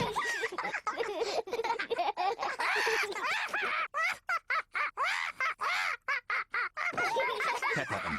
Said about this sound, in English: Peppa and George are really enjoying playing with Polly Parrot